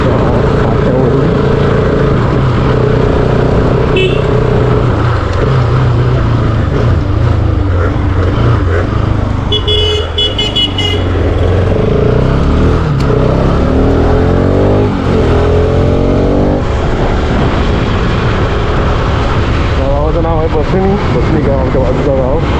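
A motorcycle rides along village roads, its engine loud and close with shifting revs and heavy wind buffeting, while someone talks over it.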